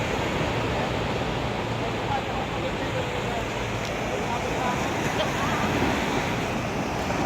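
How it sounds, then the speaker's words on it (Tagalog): Steady roar of large ocean surf breaking continuously at a beach in Naic, Cavite, a broad rushing wash with wind noise on the microphone, heard up close and fairly loud. "Yung malaki yung alon dito sa dagat."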